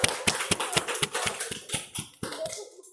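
A classroom of students claps in a steady rhythm, about ten evenly spaced, crisp claps in quick succession that stop abruptly near the end.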